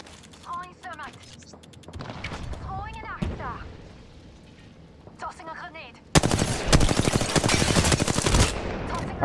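A minigun in an Apex Legends match fires in a sustained, loud rapid stream during the second half, after scattered gunshots and voices talking earlier.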